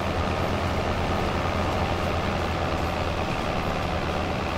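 Tractor engine running in Farming Simulator 25 on muddy farmland: a constant, loud, broadband diesel drone with a steady low throb, alone and unchanging throughout.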